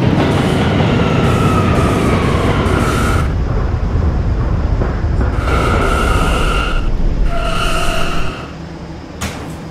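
A westbound K train on the New York City subway rumbles steadily along the rails, loud and close, with rhythmic clatter and tonal whines from the motors before the noise drops near the end.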